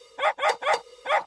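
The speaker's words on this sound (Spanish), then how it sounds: "¡Eres un perro malo!" A dog, in a Sesame Street sketch, barks four times in quick succession, close and clear, with short gaps between the yappy barks.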